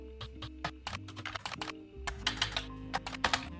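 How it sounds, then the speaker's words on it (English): Typing in the detective video game The Roottrees Are Dead comes through as a brisk, uneven run of crisp keyboard clicks over a quiet, steady hum, with no one talking. "I do not like the typing sound."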